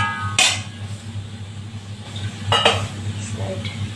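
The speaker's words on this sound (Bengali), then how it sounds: "মশলাগুলো আমার মোটামুটি ভাজা হয়ে গেছে, এখন আমি মাশরুমটাকে ঢেলে দিচ্ছি।" Mushrooms go into a pan of fried spices, giving two sharp clattering metal knocks and a soft rattling pour over a low steady hum, up close.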